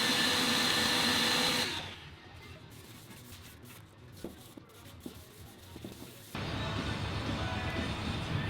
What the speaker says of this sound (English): the next step was to give everything a round over and sand all the parts